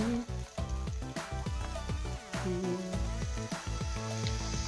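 Steady sizzling of Brussels sprouts frying in a hot pan, with clinks and tonal ringing on top and no voices.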